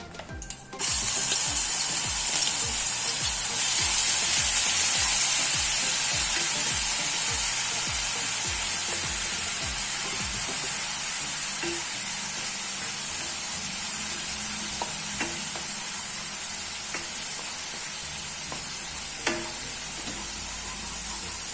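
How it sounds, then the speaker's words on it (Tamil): Steady sizzling of ginger garlic paste frying in hot oil, continuous and close, with occasional scraping clicks from stirring; no voices. "இஞ்சி பூண்டு பேஸ்ட் போட்டு வதக்கிடலாம்"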